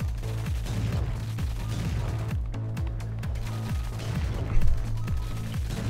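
Rapid rhythmic gunfire from the twin-stick shooter video game Assault Android Cactus, a steady stream of punchy shots over driving electronic music, loud and continuous throughout.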